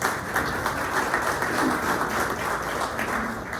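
An audience at a community candidates forum applauds as a church group is introduced, a steady, moderately loud wash of many hands clapping that lasts throughout without speech.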